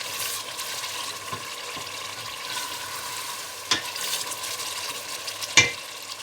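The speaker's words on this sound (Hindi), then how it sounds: "अब इनको मैं अच्छी तरह मसाले को भूनूंगी" Masala being fried in a pan for malai kofta curry, a soft continuous sizzle with occasional stirring scrapes and two sharp metallic clinks of a spoon on the pan.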